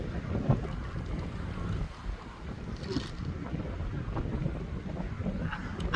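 Wind blows steadily at Crescent Beach on a cold, windy day, a continuous low rushing roar with buffeting against the microphone and faint surf beneath, no voices.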